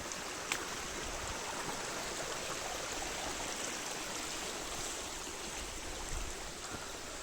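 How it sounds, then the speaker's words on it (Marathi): Waterfall runoff flows across a road at Khandi Point, making a steady broadband rushing and gurgling wash at close range with no voices. "हा वॉटरफॉलचंच पाणी आहे."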